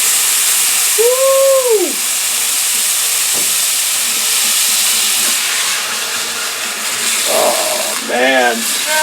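White wine hits a hot pan of shiitake mushrooms with rosemary and garlic, giving a loud, sustained steamy hiss and sizzle, while a voice lets out sliding excited exclamations over it.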